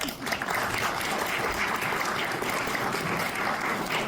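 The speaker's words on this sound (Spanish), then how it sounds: "Un aplauso." Audience at a manga masterclass by Yumiko Igarashi at the Manga Barcelona convention applauding, a full, even round of clapping from many people held for several seconds.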